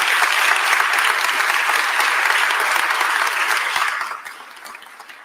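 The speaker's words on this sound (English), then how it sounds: "give Harry a round of applause" A crowd at Mayor Parker's remarks on the end of the DC33 strike applauds Harry Hansen, with brisk, dense clapping that stays strong for about four seconds and then fades to a few scattered claps.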